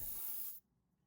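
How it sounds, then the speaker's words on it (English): A short burst of AK paint sprayed onto a miniature figure: one soft, airy hiss lasting about half a second, then stopping cleanly into near silence. "I like to spray at about a 45-degree angle"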